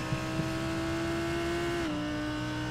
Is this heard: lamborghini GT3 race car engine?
yes